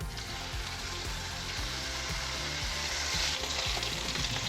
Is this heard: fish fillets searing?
yes